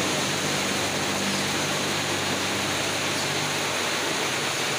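Heavy rain pours down on Jalan Poros Bira during a road trip, a dense, loud, unbroken hiss that fills the whole stretch with a faint low hum beneath.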